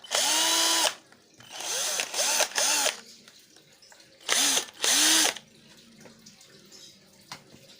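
A repaired cordless hand drill that would not spin now runs in several loud bursts, its motor whine rising and falling with each press of the trigger, with quieter handling noise in the pauses.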